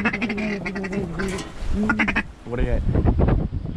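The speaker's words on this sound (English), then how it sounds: "Two big ducks." Ducks quack on a pond during a hunt, repeated nasal calls coming in bursts close by, with some voices and outdoor noise mixed between them.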